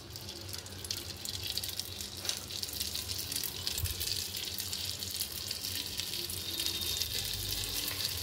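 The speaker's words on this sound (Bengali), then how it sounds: "এখানে এক এক করে আমি এখানে বসিয়ে দিচ্ছি লিট্টিগুলো" Litti are set one by one into a hot pan with a little ghee, producing a faint, continuous hissing sizzle that stays even throughout with no talking.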